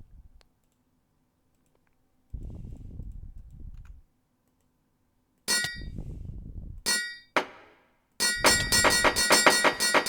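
Several sharp metallic clangs and clicks in bursts in the video game Jujutsu Experience, ending in a loud rapid series of ringing hammer hits, with quiet gaps between.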